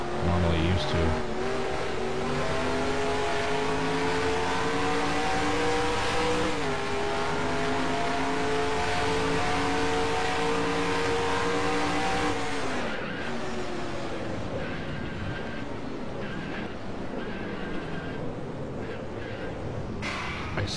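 Race car in a video game lapping the Toronto track, engine revving up through gears with climbing pitch, dropping on braking, tires squealing through turns, loud and continuous.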